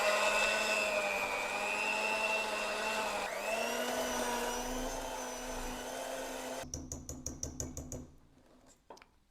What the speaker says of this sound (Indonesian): Udah lumayan, kita pakai mixer sekarang.